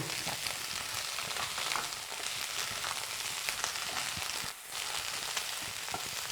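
Ginger garlic paste fries in hot oil in a pan, giving a steady, close sizzle that fills the whole clip with only a brief dip near the end.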